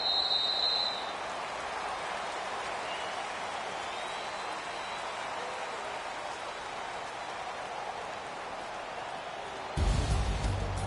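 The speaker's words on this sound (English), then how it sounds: "the forecast called for rain throughout the entire game, and we got rain throughout the entire game" Steady, even hiss of rain falling over an outdoor football game, continuous and moderately soft throughout, with a short high tone at the start and a louder thump near the end.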